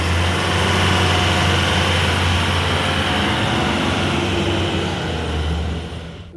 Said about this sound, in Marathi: गाडी घेऊन जातोय